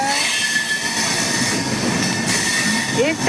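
The Ekta Nagar Express rolls past close by near Chennai Central, a loud continuous roar of wheels on rails with high metallic squealing tones throughout and a brief rising squeal near the end.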